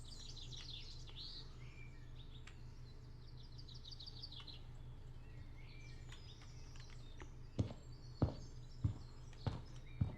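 Birds chirp and tweet in short, faint bursts over a low ambient hum in a haunted PS1-style demo game, followed by a few sharp footstep-like knocks near the end.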